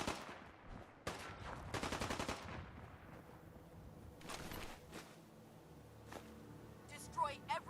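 Gunfire in Fallout 4 crackles in sharp bursts, including one rapid automatic string and several single or short shots spread through the scene, mixed with game ambience and faint voices.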